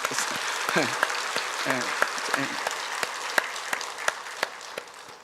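A church congregation claps for its teachers during a sermon, with scattered individual claps standing out over a softer crowd clap and some murmuring voices underneath.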